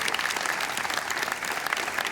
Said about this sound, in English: Let's give a round of applause to all three of our incredible award winners here.